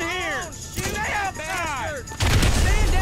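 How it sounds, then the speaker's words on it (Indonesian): A grenade launcher firing in GTA V, one heavy blast landing near the end and followed by a sustained roar, after a stretch filled with tonal game sounds and effects. "kita pakai pelontar granat aja, guys"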